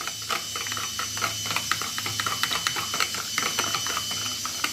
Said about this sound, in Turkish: Önce yoğurdum bir çırpayım